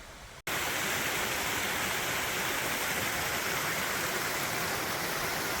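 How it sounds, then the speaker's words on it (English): Lower section of Floridale waterfall on the Rogue River trail, a loud, dense roar of falling water that starts abruptly after a brief quiet moment and holds steady, close by. "This is the lower part of Floridale waterfall."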